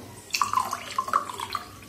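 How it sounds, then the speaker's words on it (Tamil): Strained hibiscus flower water is poured into a batch of homemade nannari sherbet for colour, a brief, close liquid splash and dribble with a few uneven gurgles, with no talk. "இது அந்த பாருங்கள் கலருக்காக ஊற்றுறது."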